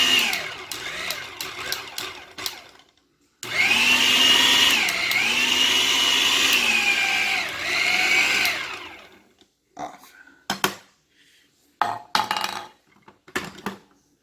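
An Aicok 8-cup food processor chopping onions, with a loud, steady motor whine for about five seconds that dips in pitch as the blade bites. Quieter clicks and clatter of the bowl and lid follow.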